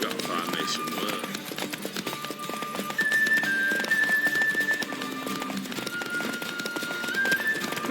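Roach the horse trots along in The Witcher 3, with rhythmic hoof clip-clops running continuously over game music and ambience, moderately close and steady.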